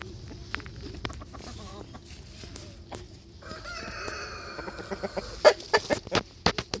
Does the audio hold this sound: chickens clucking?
yes